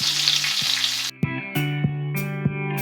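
Chopped onion goes into hot oil for a pabda fish curry with pumpkin and potato. A bright, close sizzle runs for about a second, then drops to quieter frying with a few scraping stirs.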